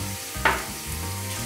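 Onion, garlic and bell pepper go into melted coconut oil in a pan, a soft sizzle with a brief louder hiss as the vegetables hit the fat, then a quiet steady frying, with no voices.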